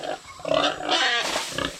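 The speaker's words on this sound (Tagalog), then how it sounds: "Sa pagtatanong dyan tungkol dito sa mga anak ng baboy namin, dyan sa mga biik." Piglets on a Philippine backyard farm grunt and squeal in a near, busy stream of overlapping calls, with no talk.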